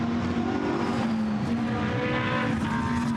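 A Lamborghini GT race car at Misano, engine droning steadily at a high, sustained pitch as it powers through the corners, loud and continuous with no talk.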